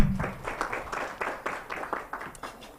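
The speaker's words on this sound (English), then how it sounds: "Could we clap for Edwin as he comes?" An audience at a live-streamed meeting clapping for a guest walking up to speak, a scattered, moderately loud round of individual claps that gradually thins out.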